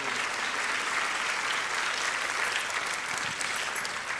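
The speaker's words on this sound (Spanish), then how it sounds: "Un aplauso para el Señor." Steady, dense applause from a church congregation, sustained evenly from start to finish without pause.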